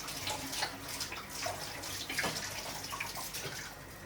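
Water runs and splashes steadily in a home kitchen while cooking, a continuous faint rush with small irregular bursts and no talking.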